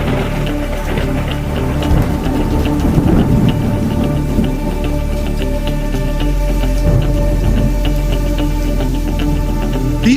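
Severe thunderstorm on July 31, 2021, with loud steady rain hissing throughout and low rumbling thunder rolling beneath it, close and unbroken.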